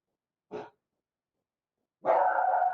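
Dogs barking in a tabletop horror game session, one short bark followed by a louder sustained burst after a gap.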